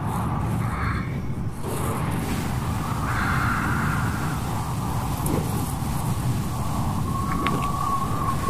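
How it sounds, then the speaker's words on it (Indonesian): Steady rain and strong wind on a night, a constant dense wash of noise with no pauses, fairly loud and close throughout. "Angin sangat besar dan cuaca hujan gemericik."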